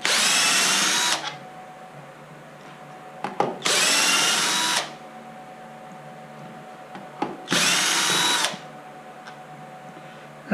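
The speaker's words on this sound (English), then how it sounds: "It helps to have a magnified tip on your drill bit. That way the screws are easier to remove." A power drill whirs in three loud, steady bursts of about a second each, separated by quiet gaps with faint clicks, as screws are backed out of an MGI Zip Navigator golf trolley gearbox.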